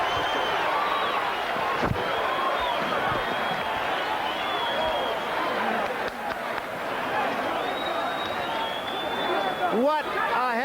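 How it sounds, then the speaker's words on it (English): A boxing arena crowd roars and chatters after a heavyweight championship fight between Larry Holmes and Michael Spinks. The dense noise continues throughout, with a ringside commentator speaking over it. "Listen to the crowd."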